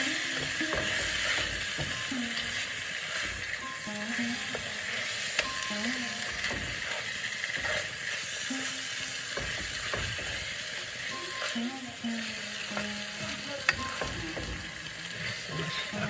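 Pui, kalmi and red amaranth greens frying with flour in oil, a steady sizzle with scraping stirring clatter and occasional utensil knocks throughout.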